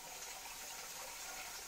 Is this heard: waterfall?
yes